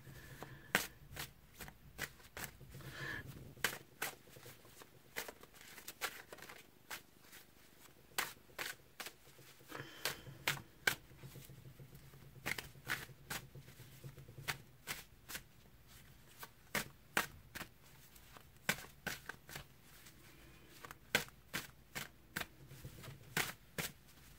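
Cards are shuffled repeatedly, with quick riffling bursts and soft slaps recurring in an uneven rhythm for a long stretch, close and fairly quiet.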